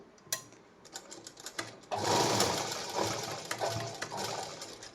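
A sewing machine stitches a blouse seam, starting with a few isolated needle clicks before a steady close whirring run of stitching.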